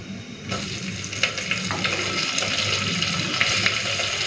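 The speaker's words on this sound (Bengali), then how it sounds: "তো পেঁয়াজটাকে হালকা ভেজে নিয়েছি," Chopped onion fries in hot oil in a pan while chicken kosha is being cooked, a loud steady sizzle with scraping and stirring clatter close by.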